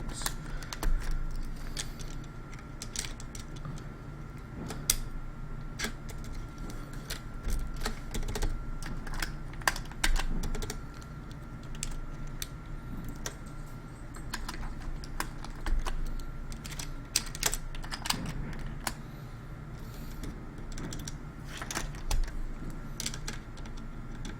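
Someone types steadily on a RedScarf 68 mechanical keyboard fitted with hyperfuse mod switches, producing crisp, irregular clacks and occasional louder bottoming-out strikes, close up over a faint background hum.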